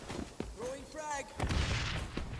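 A frag grenade bursts in the online shooter video game XDefiant, a broad booming blast that follows a short spoken line, with faint rattles of gunfire around it in a busy mix.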